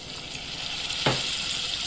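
Water poured into tomato paste sauce in a hot pan for minced-meat pasta sets off a sudden loud sizzle over steady frying hiss, then settles back into continuous bubbling.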